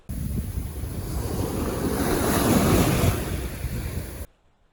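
Black Sea waves wash steadily onto the shore at Chornomorsk near Odesa, a broad rushing surf with wind buffeting the microphone, swelling midway before cutting off abruptly.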